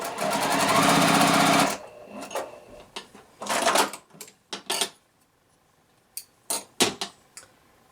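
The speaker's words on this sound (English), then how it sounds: "I can sew that center unit" A sewing machine stitches quilt pieces together for a beginner house block, running in one loud, steady burst of about two seconds, then stopping for a series of sharp handling clicks and taps.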